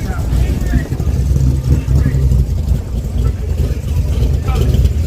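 Two big-rim street racing cars roar with loud, sustained low engine noise amid a big crowd at a Yellow Belly street racing event, with crowd chatter mixed in throughout.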